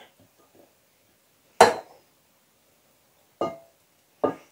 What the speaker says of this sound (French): les morceaux de chou-fleur que je vais couper rapidement au couteau